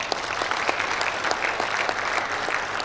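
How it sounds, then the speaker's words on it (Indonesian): Applause from the audience at a Sekolah Tinggi Teknologi Dumai graduation ceremony in Indonesia, a steady wash of many hands clapping at moderate volume with a few sharper individual claps standing out, no talking over it. "Tepuk tangan."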